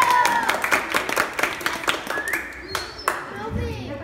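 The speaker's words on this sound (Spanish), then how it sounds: "Un aplauso para la cumpleañera." Close, rhythmic hand clapping from a small group at a birthday celebration for a ten-year-old girl, with voices cheering and talking over it before the claps trail off.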